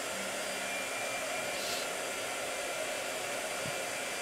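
A blow dryer runs continuously with a steady airy whoosh and hum, moderately quiet and alone with no talking.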